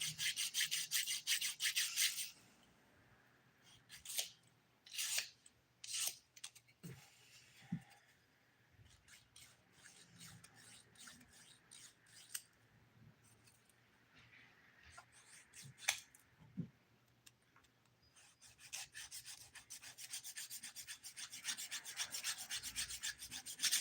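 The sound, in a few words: filing fingernails with a nail file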